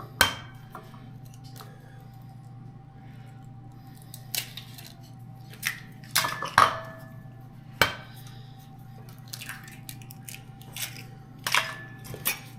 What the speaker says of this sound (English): Into this, we are going to be adding 2 eggs